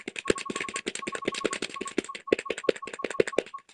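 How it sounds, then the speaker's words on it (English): Close, rapid clicking of a computer keyboard, dense irregular keystrokes rattling on with brief pauses, with no talking over them. "That's me using my keyboard"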